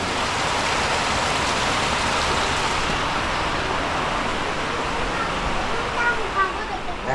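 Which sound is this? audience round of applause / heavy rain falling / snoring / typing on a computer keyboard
heavy rain falling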